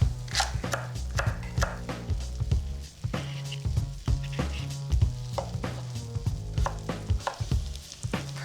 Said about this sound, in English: I'm going to get to work on the celery, carrots, and potatoes, all medium diced.